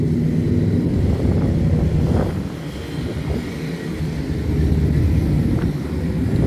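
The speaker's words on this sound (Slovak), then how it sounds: "Takto prechádzajú aktuálne motorky." Engines rumble steadily close by as several motorcycles pass through Malužiná, Slovakia, during a motorcycle event, the roar dipping briefly in the middle before swelling again. No voices.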